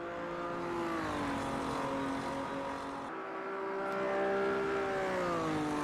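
Opala 86 race car engines drone in the racing game Automobilista 2, several stock cars' engines holding steady tones that shift pitch with gear changes, a sustained layered roar that dips briefly midway then swells again as cars pass.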